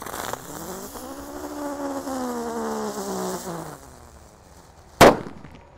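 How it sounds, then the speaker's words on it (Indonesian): A red Terrator firecracker fizzes with a rising whistling hiss for several seconds, then goes quiet before one sharp, loud bang near the end. "Kalau ini mercon Terrator yang warna merah bosku"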